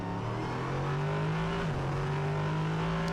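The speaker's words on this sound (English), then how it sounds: "Just listen to the roar of those mighty engines as they circulate around this circuit." Prototype racing car engines roar steadily at high revs around the Hockenheimring circuit, a loud continuous drone with a pitch that dips and rises as the cars circulate.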